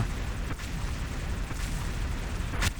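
Rapid bursts of explosions and gunfire in a shooting video game boom one after another over a dense, continuous rumble, loud and close.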